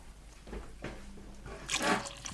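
Water poured into a pot while making Baja fish soup, a liquid splashing and gurgling with a louder surge near the end, close by and alone without talk.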